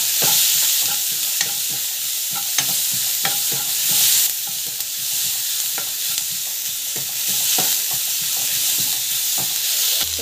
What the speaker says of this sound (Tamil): ஸோ ஆனியன் வந்து ஸோ பச்சை மிளகாய், கருவேப்பிலை, கொத்தமல்லி, ஸோ இஞ்சி பூண்டு பேஸ்ட்டு ஸோ போட்டு நல்லா வந்து வதக்கிடுங்க.